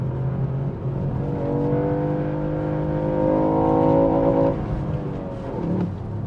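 A Ford Puma ST accelerates hard on the road, its engine note climbing steadily through the revs and then dropping back, loud and close, with no talking.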